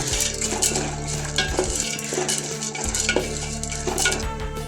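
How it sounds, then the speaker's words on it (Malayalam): Roasted gram and cashews sizzle and fry in hot ghee for a Kerala aval vilayichathu sweet, with a spoon stirring and scraping against the pan. The frying hiss is steady and close, broken by scrapes and clinks, and no one speaks. "നെയ്യ് ഒന്ന് ചൂടായി വരുമ്പം പൊട്ടുകടലയും കാഷ്യൂസും ചേർത്തൊന്ന് റോസ്റ്റ് ചെയ്തെടുക്കുക"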